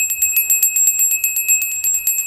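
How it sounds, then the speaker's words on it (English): A tarot reader's small bell rings loud and close in a rapid, steady trill of bright, high tones that lasts the whole time. "You get 2 bells."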